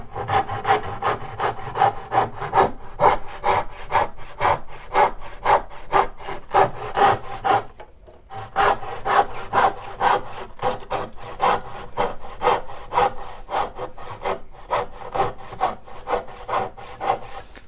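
A hand saw making vertical cuts in wood, a loud, steady back-and-forth rasp of regular strokes that runs throughout with one brief pause midway.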